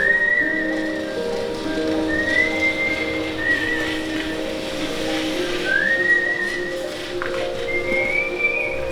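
People whistle while working in the monsoon rain of Mawsynram, India, sounding several clear rising whistle phrases over a constant hiss of rain.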